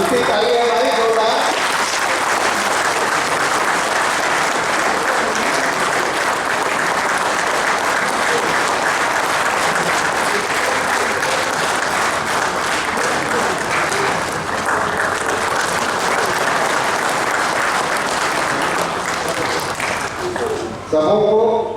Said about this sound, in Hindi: अब अंतिम ताली है हमारी जोरदार।